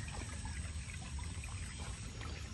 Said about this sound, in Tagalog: Dito tayo malapit sa sapa.